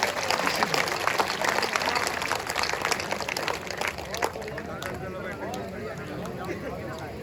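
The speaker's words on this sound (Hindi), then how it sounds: "सब लोग एक बार हाथ खड़े करके जोरदार तालियां बजाइए इस बेटी के लिए" Audience applauding at a live Hindi kavi sammelan poetry recital, broad crowd clapping with a speaking voice over it, gradually thinning and fading toward the end.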